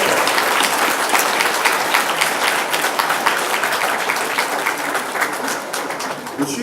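A crowd applauding a couple at a golden wedding anniversary ceremony in Marly, steady dense clapping close by that fades slightly toward the end, with some voices mixed in.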